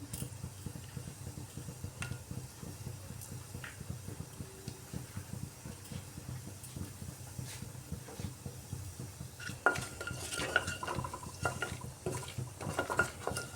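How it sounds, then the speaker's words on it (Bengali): Cumin seeds and cinnamon pieces temper in a little hot refined oil, giving a faint soft sizzle with light stirring clinks that grow busier and louder toward the end. "এর জন্য দারচিনি আর জিরে ফোড়ন দিয়ে দিলাম"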